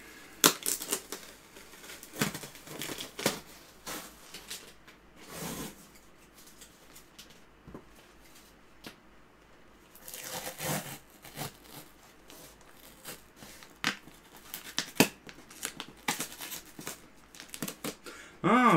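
Cardboard cartons holding Oshine PF HQL 400-watt speakers get opened with scattered scrapes, rustles and sharp tearing bursts, quiet and close, with gaps of near silence between the louder handling noises.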